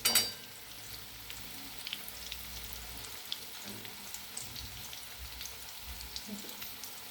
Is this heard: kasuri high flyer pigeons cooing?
no